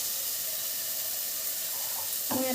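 A little water poured into a glass holding ginger-garlic paste, heard as a faint, close trickle that swells into a brief splash near the end over a low background hiss.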